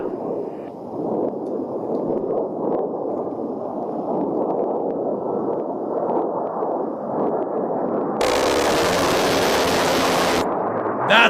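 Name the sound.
played recording of military aircraft cannon fire, A-10 versus F-35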